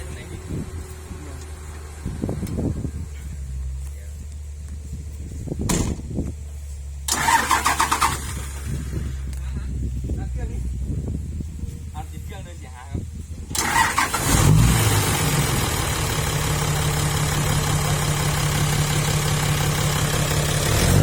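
Diesel dump truck engine cranks and catches, then idles and revs weakly as the throttle is pressed, with a steady low drone after about 14 seconds; someone talks over parts of it.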